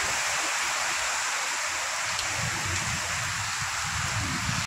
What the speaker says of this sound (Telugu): ఇక వర్షం చూడండి, వాగు వంపలు ఇదంతా.